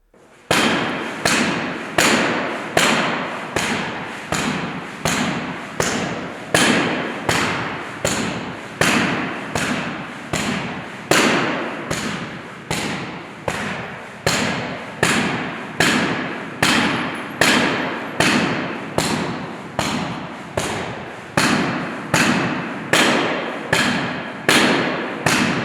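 Baseball bat slammed repeatedly against armoured security glass at a live demonstration, loud heavy thuds at a steady fast rhythm, roughly one blow per second for about 25 seconds, close and without talk.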